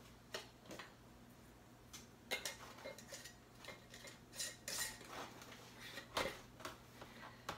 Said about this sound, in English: you put the lids on, put the rings on, and they will seal automatically